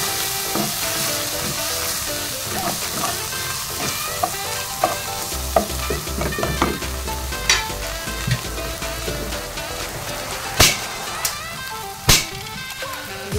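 Tuyo, dried fish, sizzling and frying in a pan, a steady loud crackle with stirring scrapes and a few sharp utensil clanks toward the end, no voices.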